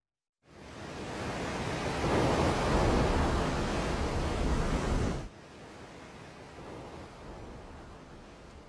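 Surf pounding the shore at Nazaré, Portugal, a loud broad roar that swells and then drops sharply to a softer, steady wash of waves; no voices.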